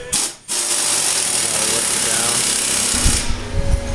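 An impact wrench drives lug nuts onto the wheels of a 1996 Ford F-250 with a Dana 60 axle swap, making a loud, close, continuous rattling hammer for about three seconds, then a few uneven clattering bursts.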